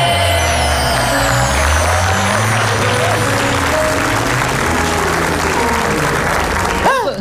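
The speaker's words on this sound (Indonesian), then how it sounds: "Kok ikut tepuk tangan?" Studio audience applause on the Indonesian comedy show Indonesia Lawak Klub, sustained clapping mixed with musical tones and crowd noise, loud and steady throughout.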